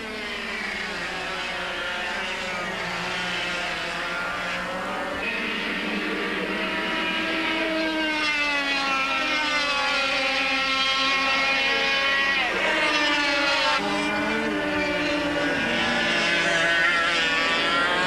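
Formula Super A racing karts from 1996 in France whine past in a continuous high-pitched engine drone, with pitches rising and falling as they pass, steady and fairly loud throughout.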